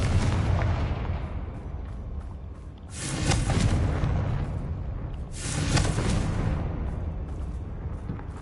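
Two broad, booming blasts from the Confringo spell in Hogwarts Legacy arrive about three seconds apart. Each one swells out of a steady rumbling background and lingers before fading.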